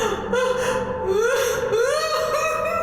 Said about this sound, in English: It sounds like Eileen crying